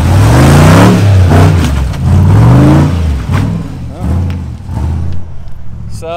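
An off-road vehicle's engine revs hard as it climbs a hill at Byrd's Adventure Center off-road park in Arkansas, a mid-pitched roar rising and falling beneath near, continuous talking.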